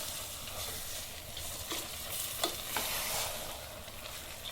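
Spinach and other green leafy vegetables are stirred in a frying pan for a curry, a soft steady sizzle with a few scraping strokes of the spoon, close and quiet.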